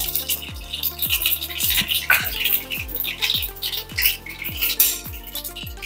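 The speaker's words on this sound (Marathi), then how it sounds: "तर त्यामध्ये आपण सोडणार आहे आता मोहरी, 1 चमचा मोहरी, 1 चमचा जिरं" A spoonful each of mustard seeds and cumin hits hot oil in a home kitchen pan, giving a steady crackling sizzle with scattered pops and a few metallic clinks of utensils against the pan.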